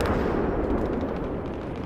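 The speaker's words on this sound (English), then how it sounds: "someone's shooting at me" Dense, sustained gunfire and rumbling battle noise in Battlefield 3 Conquest multiplayer, loud and continuous with no talk.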